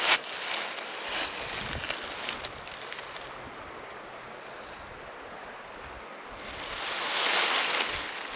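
A river beside a North Georgia mountain bike trail makes a steady broadband rush that holds constant and swells slightly toward the end, with faint insect chirps in the background.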